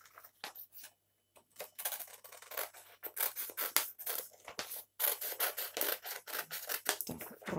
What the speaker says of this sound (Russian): поворачиваем листочек и продолжаем вырезать